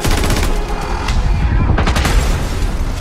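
Rapid bursts of gunfire during a police scene crackle loudly and almost continuously, dense overlapping shots with shouting voices mixed in.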